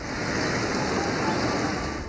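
Torrential rain falling on Karachi, a dense steady hiss of downpour that stays loud and unbroken throughout.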